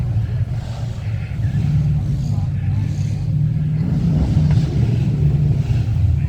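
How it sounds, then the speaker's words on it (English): Close, loud muscle car engine revving at a car weekend event, a deep continuous rumble with repeated rises in pitch, mixed with wind noise and voices talking over it. "Rev it up right now."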